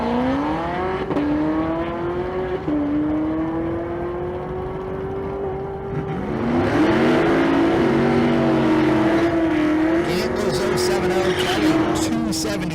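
Drag race launch with a 2018 Chevrolet ZL1 Camaro in the right lane at a Las Vegas street car event: loud, sustained engine roar rising in pitch through gear changes, swelling and harsher midway, with commentary running underneath.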